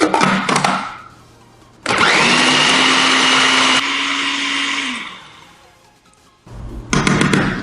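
A kitchen blender beats vegan butter for an empadão pie dough in one loud, steady whir lasting about three seconds, framed by short clattering bursts of handling before and after.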